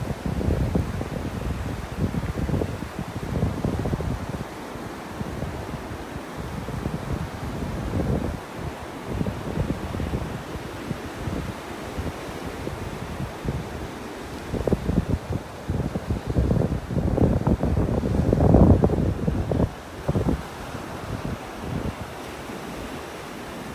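Strong, cold wind gusts blow across the microphone on a beach in North Naples, Florida, while ocean surf rolls and crashes in the background, with no talking.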